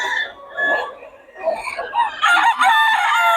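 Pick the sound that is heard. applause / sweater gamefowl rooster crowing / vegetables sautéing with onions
sweater gamefowl rooster crowing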